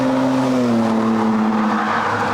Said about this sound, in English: You can hear them coming by right now.